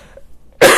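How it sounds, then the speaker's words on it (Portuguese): A single sharp cough bursts in loud and close near the end after near silence, with a brief throat noise before it. "Desculpa, deu uma tosse aqui."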